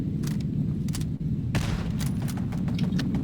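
Video game gunfire rattles in rapid bursts over a dense, rumbling battlefield din, loud and close with repeated sharp cracks.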